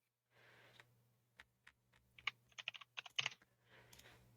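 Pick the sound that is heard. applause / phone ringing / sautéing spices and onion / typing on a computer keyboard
typing on a computer keyboard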